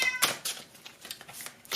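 A cat meows in a few short, bright calls spread across the moment, fairly close and fairly quiet, with no voices alongside.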